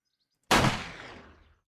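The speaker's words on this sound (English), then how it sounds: "Let's try our silence pistol" A single silenced pistol shot fires in the game 7 Days To Die, a sudden muffled thump with a short decaying tail, alone and fairly loud against silence.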